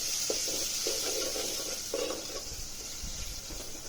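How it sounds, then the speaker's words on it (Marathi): Tomatoes cooking in oil in a pan, giving a soft, steady sizzle with a few light stirring scrapes, moderately quiet and close. "मग टोमॅटोला पण तेलामध्ये छान असं शिजवून घ्यायचं."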